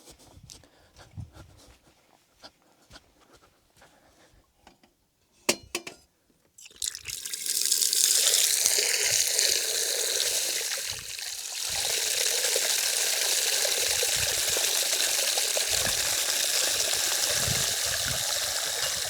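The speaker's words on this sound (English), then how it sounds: "As you saw, I just went and got my water." Fresh mountain water being fetched at a Norwegian mountain cabin: a few faint knocks and rustles, then a steady loud rush of running water filling a container close up, lasting to the end.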